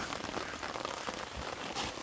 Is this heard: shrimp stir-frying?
no